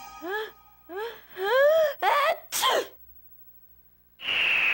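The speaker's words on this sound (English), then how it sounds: "Oh, she's about to sneeze." Female character in the video game Lunar 2: Eternal Blue building up to a sneeze, with several rising wavering inhales and moans and a sharp sneeze burst, then a pause before a loud steady hiss at the end.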